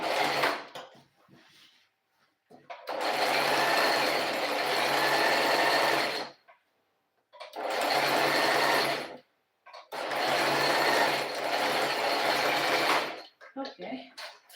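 A sewing machine runs in three long bursts stitching fabric pockets, a steady buzzing whir that starts and stops with short pauses between runs, plus softer handling clicks at the start and end.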